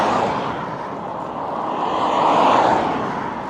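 A steady broadband whoosh of tires rolling on pavement, swelling slightly louder midway as the vehicle passes, with no voices.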